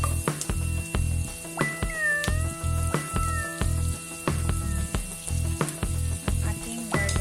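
Garlic is added to crabs frying in a pan, and the hot oil sizzles loudly and steadily. Sharp clacks of the utensil against the pan and a few high squeaks break through the hiss.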